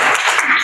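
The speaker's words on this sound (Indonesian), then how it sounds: "beri tepuk tangan untuk kelompok 2" Applause from a classroom of students for a student group after their presentation, a dense burst of many hands clapping together, steady and fairly loud throughout the short moment.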